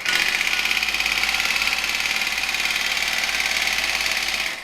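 A Bell & Howell 2709 film camera is hand-cranked, giving a steady, close mechanical whirring clatter with a fast even rhythm that runs continuously before stopping abruptly at the end, with no voices.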